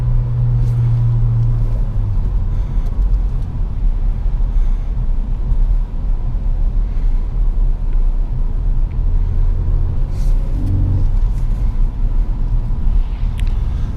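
2017 Ford Focus ST engine accelerating hard in third gear on a snowy, slippery road, a loud low rumbling drone building steadily inside the cabin.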